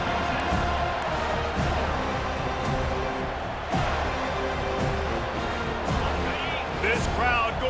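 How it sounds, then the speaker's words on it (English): A stadium crowd in a college football video game roars continuously in the background, a dense wash of cheering under steady play-by-play commentary. "This crowd going to try to make life miserable for these guys."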